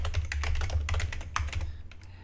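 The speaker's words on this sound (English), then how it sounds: "typing the name and hitting the enter key gives us the response" Rapid keystrokes clatter on a computer keyboard as a name is typed, a dense run of close, crisp clicks that thins into a few scattered presses near the end, with a low steady hum underneath.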